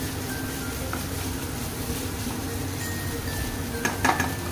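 Prawn masala sizzles on a tawa as it cooks dry, a soft, constant crackle with a few metal utensil clinks and scrapes near the end.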